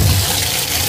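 Water pours steadily into a regular foot-soak basin, a loud, continuous close splashing rush with no pauses.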